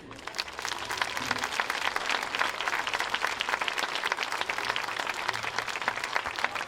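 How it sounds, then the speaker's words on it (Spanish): A crowd at a bagpipe band gathering in Castrillón applauds the host band, a sustained, even patter of many hands clapping, moderately distant and continuing for several seconds without talk. "Un aplauso."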